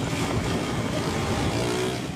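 A motorcycle ridden on a wheelie during a street race, engine droning loudly and continuously at close range.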